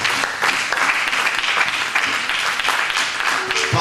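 A church congregation bursts into sustained, dense applause, a close and lively crowd of clapping hands acclaiming the King of Kings with no voice standing out.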